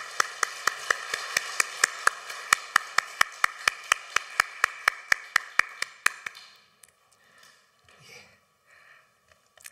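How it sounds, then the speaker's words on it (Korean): A church congregation claps for a women's choir after a worship song, a steady unison beat of sharp claps for about six seconds before fading into scattered murmurs and quiet voices. "이 시간 우리 박수로 축복하겠습니다"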